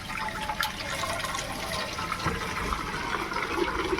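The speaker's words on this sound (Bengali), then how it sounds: "জলটা ভরে নি বালতি" Water runs steadily from a tap into a bucket, a continuous splashing rush at moderate distance with no voices.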